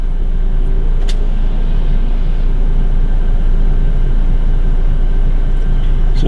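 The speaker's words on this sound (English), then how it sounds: "A lot of cars out." Cars passing on a road, a constant heavy rumble of traffic that holds steady throughout, with a faint tonal hum and no voices.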